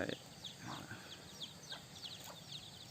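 A decoy red jungle fowl rooster calls outdoors in a rubber plantation, several short crowing and clucking bursts spaced across the clip, fairly faint and set against a quiet background with birds around.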